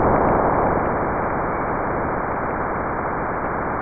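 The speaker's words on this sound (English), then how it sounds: "They named that the roar of Jupiter." Spacecraft data from Jupiter's bow shock, where the solar wind is heated and slowed by the magnetosphere, rendered as a dense, steady roaring hiss of band-limited noise with no breaks.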